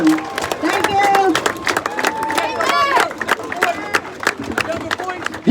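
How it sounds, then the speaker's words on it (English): A crowd at a community rally against racial injustice and gun violence claps and cheers together, a continuous wash of applause with voices calling out over it, fairly close and loud. "Give another round of applause, y'all."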